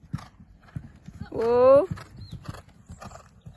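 Horses close by with soft clip-clopping hooves and one clear, loud neigh in the middle, while a person speaks briefly.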